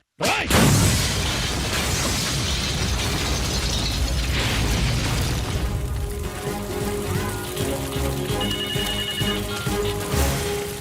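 A sudden loud bomb blast bursts out at the start, followed by a long rumbling roar and clattering debris that slowly settles.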